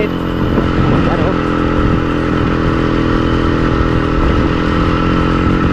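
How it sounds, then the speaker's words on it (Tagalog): A motorcycle with a manual clutch, ridden without helmets, drones steadily and close throughout, its engine hum even and unbroken. "sakay na nga tayo sa motor"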